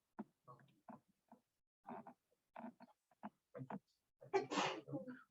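A single sneeze bursts out in a lecture classroom, loud and sharp, after a stretch of scattered chatter and speech from people in the room; brief talk follows the sneeze.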